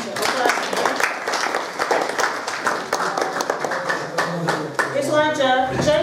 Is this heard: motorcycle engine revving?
no